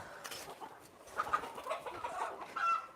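Chickens, laying hens on a farm, cluck and chatter softly nearby, with a few sharper calls rising over quiet background noise.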